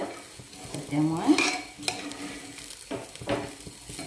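Pulao rice frying in a pan while being stirred, giving a rough scraping sizzle with metallic clatter of the spoon; a voice speaks briefly at the start.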